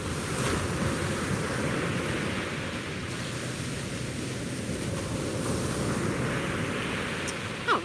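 Ocean waves washing onto a beach at sunrise, a continuous broad roar of surf with wind noise on the microphone, steady and fairly close, with no voices.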